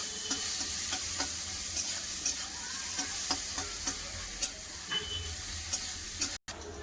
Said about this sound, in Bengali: একটু নুন একটু হলুদ দিয়ে আমি ভালো করে ভেজে পাঁচ মিনিটের মতন ভেজে দেবো